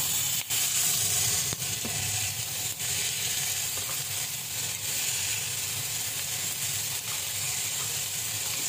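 Onion and chicken wings fry in a pan as soup preparation begins, producing a steady, close, dense sizzle with faint utensil clicks and no talk.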